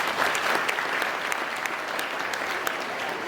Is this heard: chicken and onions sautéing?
no